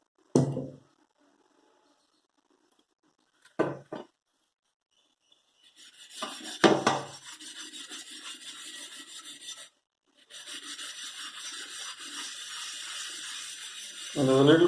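Cast iron tawa being scrubbed and cleaned, with bursts of steady rasping friction over metal and a few short knocks, running several seconds at a time between pauses.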